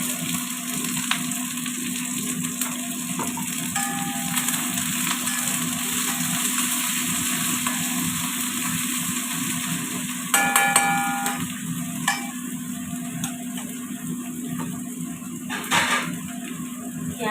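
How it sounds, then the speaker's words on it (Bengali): Onion fries in hot oil with dried red chillies in a home kitchen, giving a continuous loud sizzle with occasional stirring clatters and scraping knocks from a utensil against the pan. "তেল গরম হয়ে গেছে, শুকনো লঙ্কা দিয়ে দিলাম। এবার আমি দিয়ে দেবো পেঁয়াজ।"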